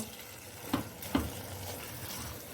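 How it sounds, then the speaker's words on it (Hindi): Green chickpeas with minced meat being fried in a pan give a soft continuous sizzle. Two brief scraping stir strokes sound close by, and there is no talk. "मैंने इसे 2 मिनट तक भूनना है"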